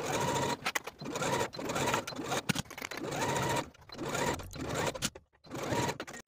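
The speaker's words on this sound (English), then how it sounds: "Using a wide zigzag stitch, I'm going to sew from one end to the other." A sewing machine runs a wide zigzag stitch along the leg opening of a bodysuit, a close, continuous mechanical whir broken by brief pauses and restarts, with no speech.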